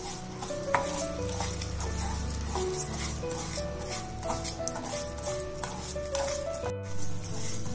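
Basmati rice roasting in ghee over a low flame, a steady soft sizzle with frequent stirring scrapes against the pan, continuous and close throughout.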